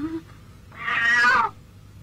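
A single cat meows once, a drawn-out, fairly loud mew close by, preceded by a brief faint chirp.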